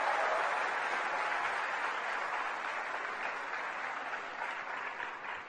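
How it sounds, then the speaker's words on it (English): Sustained audience applause at a literary festival welcoming a speaker, a dense, steady wash of clapping from a large crowd that holds level throughout with no voices over it. "A big round of applause as we welcome him to speak a few words here."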